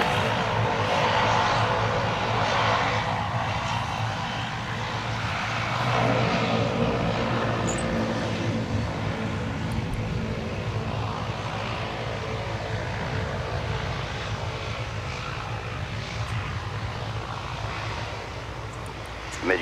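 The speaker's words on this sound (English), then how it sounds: "Turn right heading 180, runway 17, clear for takeoff." An airliner takes off from runway 17 at Minneapolis–Saint Paul airport, its engines producing a sustained, loud, broadband roar that holds steady across the whole stretch without voices.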